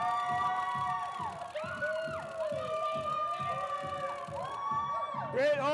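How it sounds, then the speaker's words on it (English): A crowd screams and cheers loudly during a ski advertisement photo shoot, shrill whoops and sustained yells layered over rhythmic thumping, building to a louder burst at the end. "That's way better when everyone's screaming."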